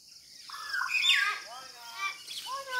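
Common mynas calling in the morning, a few close, clear chirps and whistling notes that rise and fall in quick succession, with faint talk in the background.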